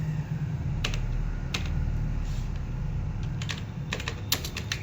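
Steady typing on a computer keyboard while filling in a form in PageMaker, with rapid close-up key clicks in uneven bursts over a continuous low hum, no voice.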